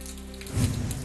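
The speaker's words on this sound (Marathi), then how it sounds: "अमरावतीमध्ये पहाटेपासून अवकाळी पावसाचा शिडकाव" Unseasonal early-morning rain falls in Amravati, a soft, steady patter of drops on surfaces with a low rumble swelling briefly midway, brief and moderately quiet.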